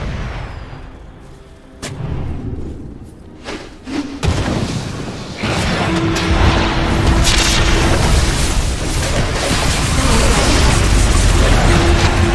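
Heavy booms and crashing impacts as a tower is destroyed in Dota 2, several deep blasts building into a loud, sustained rumble of explosive game effects that lasts to the end.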